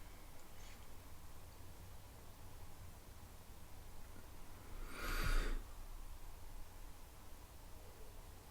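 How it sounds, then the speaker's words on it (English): A single loud, breathy exhale rushes close to the mic amid steady background hiss, with a faint earlier breath; no talking. "Sorry for the deep breathing,"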